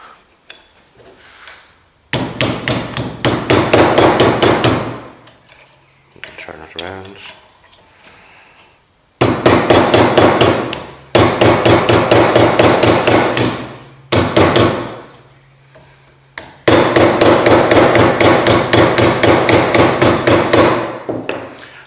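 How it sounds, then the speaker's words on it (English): Soft hammer striking and bending the edges of sheet metal pieces in a school metalwork setting, with rapid repeated loud blows in several long bursts, briefly broken by a short spoken instruction. "So I'm just going to use the soft hammer on these edges here"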